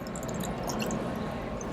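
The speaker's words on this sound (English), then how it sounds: "I'm going to start pouring the water in" Water pours into a glass wedding centerpiece, a steady close splashing and gurgling stream that fills the whole moment without pause, nobody speaking.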